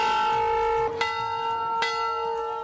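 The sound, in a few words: large temple bell ringing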